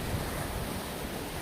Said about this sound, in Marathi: समुद्राच्या लाटा वगैरे येऊन या किल्ल्याला धडकत आहेत